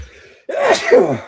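A single loud, close sneeze bursts out after a quiet moment, with a sharp intake and forceful explosive release.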